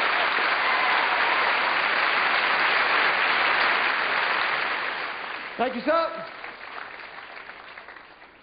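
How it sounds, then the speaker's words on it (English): A theatre audience at a stage show claps loudly for four volunteers, a dense sustained applause that fades out toward the end as someone speaks briefly. "A round of applause for our 4 volunteers."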